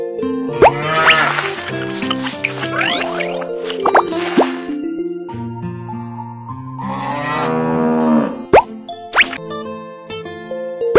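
A cartoonish dairy cow moos twice in a Baby Bus farm video game, the long moos sitting over bright game music with bouncy plops and boings.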